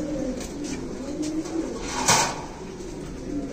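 A golden pigeon coos softly in a steady low murmur, with one brief brighter burst midway through a faintly noisy background.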